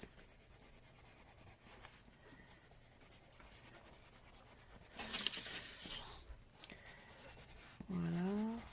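Watercolour pencils scratch and rub softly across paper while colouring a water lily flower, a faint, steady, close scratching texture with a few louder strokes and handling noises near the end.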